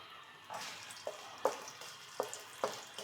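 Chili pepper fries gently in hot oil in a wok for a Sichuan dish, a soft steady sizzle with several faint crackles and pops, quiet and close with no talking.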